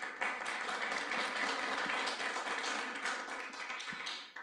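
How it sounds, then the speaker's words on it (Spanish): An audience at an architecture faculty event gives a steady burst of applause, dense and even throughout, before thinning out at the end. "Por favor, un aplauso."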